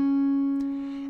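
A single sustained fingerstyle guitar note rings clearly, then a quick pull-off on the second string adds a soft change midway before the tone fades slightly, close and alone.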